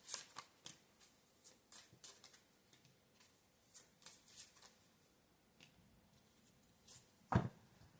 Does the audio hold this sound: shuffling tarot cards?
yes